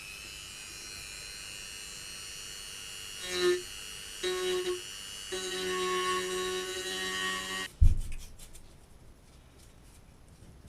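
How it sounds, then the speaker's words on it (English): A rotary tool with a round tip smooths the edges of a hardwood fishing lure in short whining bursts that rise and stop, followed by a clunk as the tool is set down. No talk. "now I'll just use a round tip here to smoothen out the edges around the socket a bit"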